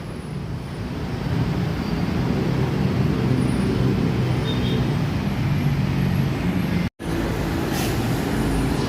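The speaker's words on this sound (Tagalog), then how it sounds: "nagbi-build up na naman po yung traffic natin" Steady road traffic along EDSA in Manila during rehabilitation works, a continuous broad rumble of engines and tyres with no single vehicle standing out, briefly cut by a short dropout near the end.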